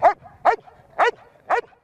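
Four loud, evenly spaced barks from a police detection dog used for anti-narcotics and mine detection work, each sharp and close, roughly half a second apart with short gaps between.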